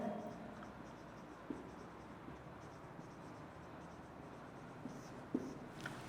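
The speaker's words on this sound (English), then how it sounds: "Let us draw the floral diagram." A pen scratching steadily on paper while a floral diagram is drawn by hand, soft and continuous with a few small taps, under low room noise and faint talk.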